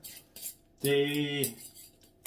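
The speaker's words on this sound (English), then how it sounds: "Easy, just a fork, no blender needed." A fork mashing raspberries in a bowl for an anti-inflammatory raspberry dressing: soft clinks, then a sustained metallic scraping squeal lasting under a second, followed by quieter taps, close and fairly faint overall.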